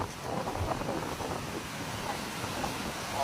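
Strong west wind and big sea waves roar steadily on the coast at Minang Luang, Merak, Pandeglang, a loud continuous broadband rush with no clear breaks and no talk.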